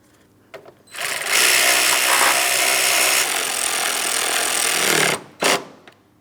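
Power tool driving a radiator mounting bolt back in on a 2004-2008 Pontiac Grand Prix 3.8L V6, a loud steady whirring burst of about four seconds with brief short bursts before and after.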